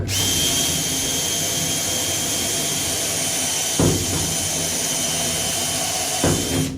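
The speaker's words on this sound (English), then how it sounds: "I think I need to make my hole just a little bit bigger." A power drill runs steadily to enlarge a hole during an LG washing machine drain pump repair, its loud, close motor whine continuous for the whole stretch with two brief clunks near the end and no talking.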